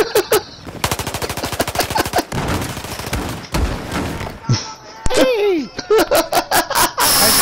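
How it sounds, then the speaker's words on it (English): Rapid bursts of machine gun fire in the shooter game Battlefield 4, loud rattling volleys separated by short pauses, with people talking and laughing over the shooting. "I stopped shooting at him!"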